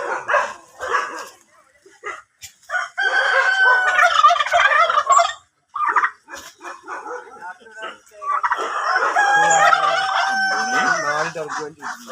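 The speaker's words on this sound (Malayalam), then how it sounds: "ഇനി ടർക്കിയൊക്കെ ഉണ്ട്." Turkeys gobbling at a farm exhibition, loud repeated warbling bursts close by with pauses between, other fowl calling and people's voices in the background.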